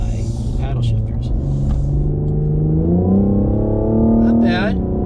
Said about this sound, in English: The exhaust note piped in, not too shabby.